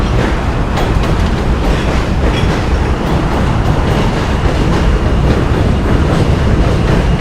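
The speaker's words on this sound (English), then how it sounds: "M-Train coming through" A New York City subway M train rumbles past close by, a steady loud roar of wheels and motor with faint rhythmic clatter throughout.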